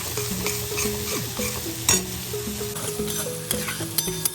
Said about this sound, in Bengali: তো চলো মশলাটা খুব ভালো করে কষে নিয়ে তারপরে দেবো কিন্তু জল।